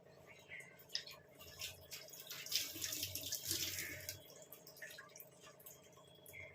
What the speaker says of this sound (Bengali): এরপর আমি এতে জল দিয়ে দেবো।